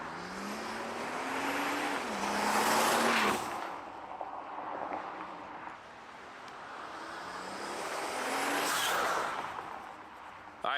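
Car engine revving at roughly half throttle, two rising surges of engine roar a few seconds apart, loud and close, settling to idle in between.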